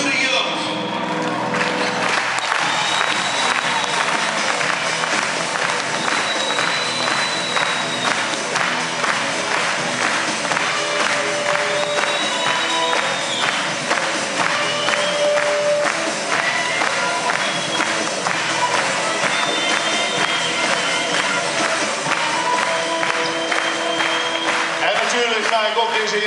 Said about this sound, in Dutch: Dames en heren, verwelkom met een hartelijk applaus onze jongens van Hurry Up.